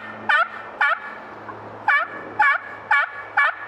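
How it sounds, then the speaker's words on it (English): A slate turkey call working a slow gobbler yelp, six coarse, raspy yelps in deliberate, evenly paced bursts, close and loud against a faint constant hum. "That's a gobbler yelp."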